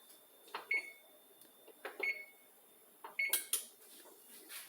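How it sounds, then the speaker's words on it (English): A kitchen oven is set to preheat, giving several short, high electronic beeps at a steady pace, each one following a soft button press, heard up close in an otherwise quiet room. "let's put the oven on preheat"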